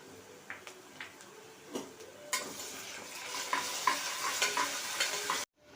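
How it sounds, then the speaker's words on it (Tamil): Onions sautéing in a pan for kushka, with soft sizzling and repeated scraping stirs of a utensil against the pan, close and fairly quiet, building slightly before cutting off. "வெங்காயம் நல்லா வதங்கிருச்சு இது கூட இஞ்சி பூண்டு சேர்த்துக்கலாம்"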